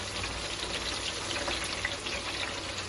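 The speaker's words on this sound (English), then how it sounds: "You want a nice crackling sound" Dense, steady crackling and spitting of vegetable crisps frying in hot oil, close and continuous with no voices.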